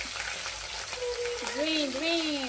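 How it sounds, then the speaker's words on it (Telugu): Onions fry in oil with cloves, cinnamon and bay leaf, giving a steady, close sizzle throughout. A gliding, whistle-like tone rises and falls over the hiss during the second half. "ఫ్రై అవుతున్నాయి, అవైతే మగ్గాలి."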